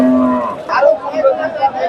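A crossbred cow at a busy cattle market lets out a loud, close moo that trails off, followed by softer market noise and murmuring in the background.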